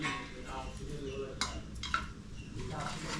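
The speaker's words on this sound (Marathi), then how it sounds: "याच्यासाठी बघा 2 भांडी घेतली." Metal cooking pots clink and clatter in a kitchen while chicken masala is being prepared, giving a few sharp knocks and scrapes over a quiet background with soft talking.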